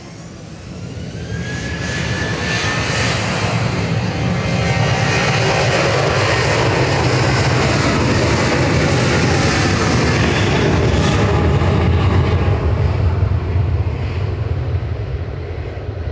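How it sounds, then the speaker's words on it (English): A Ryanair Boeing 737-800 bound for Alicante takes off from Manchester Airport, its jet roar rising from quiet to a loud, sustained rumble with a brief whine early on, then holding steady and easing slightly near the end. "Ryanair heading off to Alicante, EIDHF 737-800"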